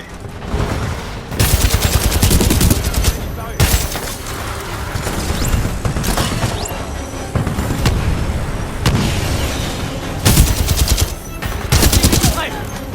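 Dense gunfire from the video game Titanfall 2 in story mode, with loud rapid automatic bursts and heavy shots hammering almost without pause and occasional booming impacts mixed in.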